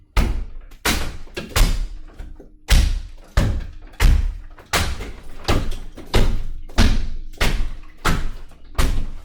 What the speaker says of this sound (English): So now I can batter ram this to expose my lath.